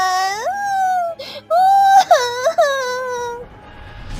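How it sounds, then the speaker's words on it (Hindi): Eerie children's crying for a spooky story, a drawn-out wavering wail that rises and falls in a few long moaning phrases, loud and close. "ये बच्चों के रोने की आवाज कहाँ से आ रही है?"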